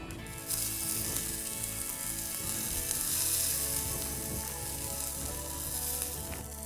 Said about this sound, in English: open up the bag and pop them on the char grill